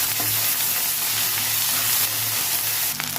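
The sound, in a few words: frying onion, green chillies, ginger and garlic in hot oil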